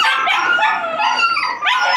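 Several dogs from a litter yelp, howl and whine close by in an excited, overlapping chorus of high-pitched barks and yips.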